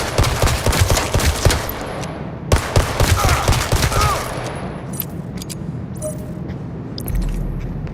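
Gunfire fills a gangster-themed video game: rapid bursts of shots with rumbling background noise crowd the first half, then taper into scattered single pops and ambient game sound. No talk is heard.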